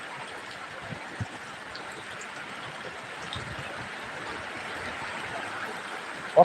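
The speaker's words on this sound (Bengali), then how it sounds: "অত্যন্ত জোরে আবার বৃষ্টি শুরু হলো" Heavy rain pours down in a steady, even wash of hiss, close and unbroken throughout, with no voices over it.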